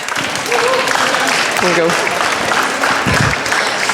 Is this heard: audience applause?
yes